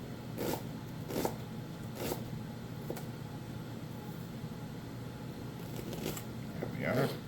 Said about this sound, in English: So what I want to do is just cut this up fairly